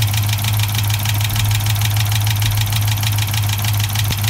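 A Dodge Challenger R/T Hemi V8 at about 100,000 miles idles close by with a steady low drone, a fast, even ticking, the Hemi tick, running through it.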